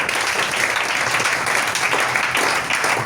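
An audience applauds steadily, a dense continuous wash of many hands clapping at full volume for a few seconds, with no break.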